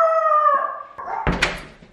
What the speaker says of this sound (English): Dog, man, this dog.